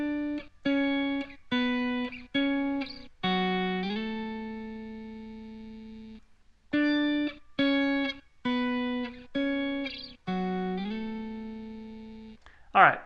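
Electric guitar playing a solo in octaves, a sequence of clear picked notes and short phrases with sustained, bending tones, a brief pause midway, played close and alone.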